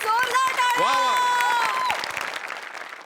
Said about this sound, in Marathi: या एफर्टसाठी जोरदार टाळ्या.